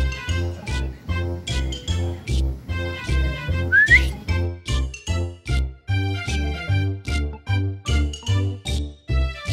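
A person whistles to call a cat, short high whistled notes and one rising slide, heard over a loud, steady rhythmic musical thumping pattern that runs throughout.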